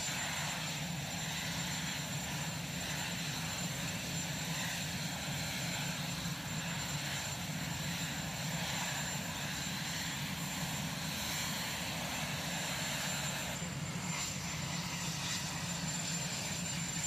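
A presidential helicopter waits on the White House South Lawn, a steady, distant engine and rotor drone holding constant, with no talk.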